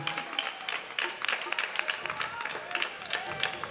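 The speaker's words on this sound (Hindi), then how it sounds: "स्वराज पाठक के लिए भी ढेर ढेर ढेर सारी तालियां" Audience applause at a cultural festival program, moderately quiet steady clapping from a crowd with some voices mixed in, continuing for a few seconds.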